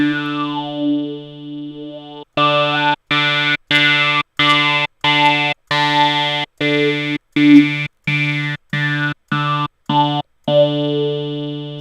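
A sustained synthesizer note sent through an XY filter while the control dot is moved around, its tone shifting between vowel-like O and E colours, gated into a rapid series of evenly chopped pulses, loud and alone.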